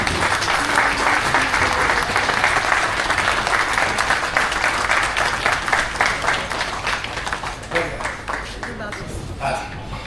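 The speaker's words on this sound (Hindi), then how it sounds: "हम सबको एक बार खड़े होकर के इनके लिए ताली बजानी चाहिए" Sustained applause from attendees fills a municipal corporation board meeting in Kashipur, a dense crowd clapping that stays loud for several seconds before gradually thinning out near the end.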